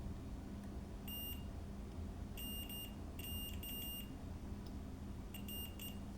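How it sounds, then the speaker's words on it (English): A multimeter in continuity mode gives sharp, high-pitched beeps in short bursts, some single and some clustered, each time the probes touch, heard over a quiet, steady background hum. "if I touch both sides together, you can hear a beep"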